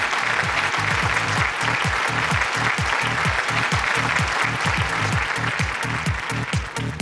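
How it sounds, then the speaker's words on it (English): A large audience at a business awards event for powerful women in Indian business gives a sustained round of applause, dense and even clapping that stays loud throughout, with music playing underneath. "A big round of applause, ladies and gentlemen, please."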